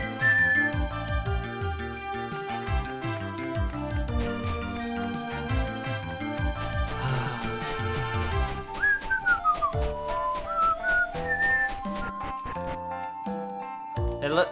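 A whistle-like sound effect in the Dragon Quest Monsters: Joker 2 game, a gliding pitched tone rising and falling in short steps over continuous game music, with no talking.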